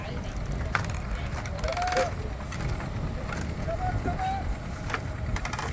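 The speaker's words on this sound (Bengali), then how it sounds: "দড়িটা খুলে দিচ্ছে আর ইঞ্জিন স্টার্ট দিয়ে দিয়েছে নৌকোর" A village ferry boat's engine runs steadily as the boat leaves the river bank, a continuous low mechanical drone with faint splashing and distant ambient noise around it.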